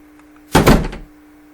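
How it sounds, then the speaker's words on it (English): A library sound effect of a door bang: one heavy, close, loud slam with a short booming tail, set against a faint steady hum. "I'll do a door bang."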